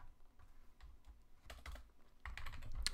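Code being typed on a computer keyboard, a quiet, close run of uneven key clicks that thicken into a faster flurry toward the end, with no talk.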